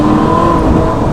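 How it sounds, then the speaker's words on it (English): Loud, close engine note from a Ferrari 458 Spider supercar during downshifting, a dense sustained roar with a slight pitch drift over one brief burst. "That downshifting."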